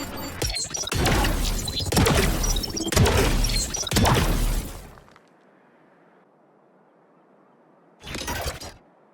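KAY/O fragment grenade in Valorant going off with several loud crashing, shattering blasts packed into the first few seconds, then a low lingering hiss and one more short sharp burst near the end.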